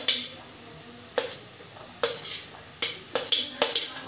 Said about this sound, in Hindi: साथ में हम डालेंगे गाजर, जिसे हमने छोटा छोटा काट रखा है,